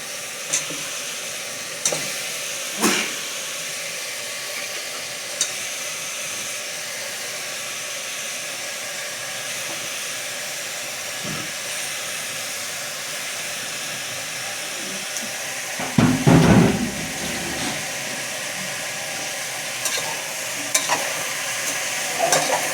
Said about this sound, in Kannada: ಫ್ರೈ ಮಾಡಿ